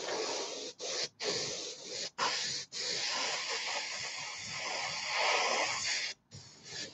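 Airbrush spraying a light coat of paint onto a Vickers Wellington scale model, a steady close hiss broken by several short pauses as the trigger is released and pressed again.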